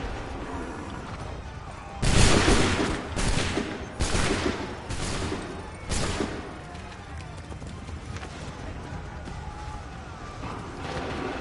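Musket volley fire in the Assassin's Creed 3 video game, a burst of several loud rolling shots in quick succession that fades into battle ambience.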